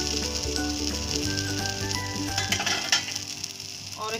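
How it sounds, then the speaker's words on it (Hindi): Egg and urad dal omelette frying in oil in a pan as it is flipped, a steady close sizzle with faint scraping of a spatula and no talk. "इसको थोड़ा तेल डाल देंगे और इसको पलटेंगे"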